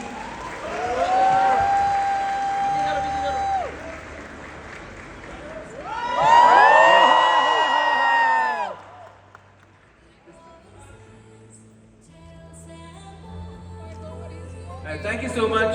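A crowd at a Shah Rukh Khan appearance erupts in high-pitched screams and cheers, with a second louder burst following the first. Applause mixes in, then fades into quieter murmuring and tonal sounds.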